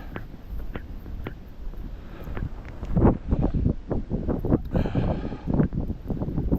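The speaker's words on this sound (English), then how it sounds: "very stiff northerly wind coming down from the Arctic" A stiff northerly wind coming down from the Arctic on a night walk in Maine, gusting and buffeting close and loud against the microphone in uneven surges, with rustling and faint crunching.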